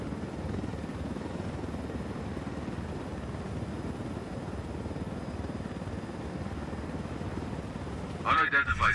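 A helicopter in Ghost Recon Wildlands flies low through a canyon, its steady rotor and engine drone filling the whole stretch, close and continuous, with a brief radio voice breaking in at the end.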